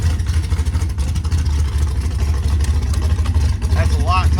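A 1981 Chevy El Camino engine runs steadily at idle to build oil pressure, a loud, close, throbbing low rumble with a faint chirp near the end.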